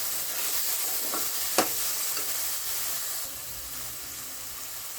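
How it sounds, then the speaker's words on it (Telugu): Ginger garlic paste fries in hot oil for an Andhra-style egg and potato curry, giving a steady close sizzle and hiss with a few scraping stirs and one sharp clink from the spoon midway. "కొంచెం అల్లం వెల్లుల్లి పేస్ట్ వేసాక బాగా మిక్స్ చేసుకుని పచ్చివాసన పోయేదాకా వేయించుకోవాలి"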